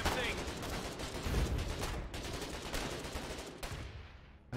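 Gunfire in the video game Foxhole, a dense run of rapid shots and bursts layered over rumbling battle noise, with a brief cutoff near the end.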